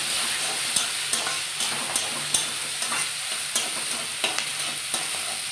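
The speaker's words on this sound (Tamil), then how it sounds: "இது எல்லாத்தையும் போட்டு நம்ம நல்லா வதக்கிக்கணும்" Shallots, garlic and tomatoes sauté in a pan for a sprouted green gram kurma. A steady close sizzle runs throughout, with a spoon scraping the pan in regular strokes about twice a second.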